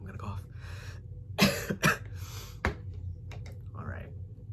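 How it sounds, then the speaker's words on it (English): A person coughs a few times at close range, with harsh bursts followed by a throat-clearing sound, while mixing cayenne-flaked drink powder in a clear shaker. "I feel like I'm gonna cough."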